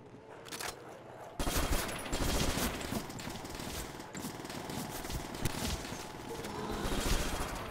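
Rapid automatic gunfire in Call of Duty Zombies, a dense, sustained burst of shots that starts abruptly and keeps rattling loudly with little pause.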